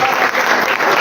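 Applause from a church congregation welcoming a guest to the stage, dense and steady clapping throughout at close range with no speech over it.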